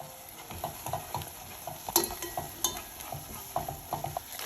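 Red onions with freshly added parsley and dill cooking in a pan for a salmon Wellington, a quiet sizzle under soft stirring scrapes and a few sharp utensil taps, close and steady.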